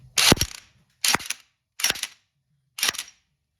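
Four short, sharp bursts from an impact wrench tightening a new sprocket bolt on a Honda Africa Twin motorcycle, each rattling hammer burst under a second, spaced at irregular intervals with quiet gaps.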